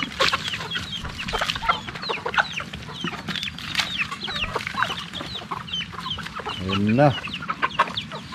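Chickens, along with a turkey, at a farm pond clucking repeatedly while waiting to be fed, a busy layered chorus of close calls with one louder rising squawk near the end; a voice briefly speaks.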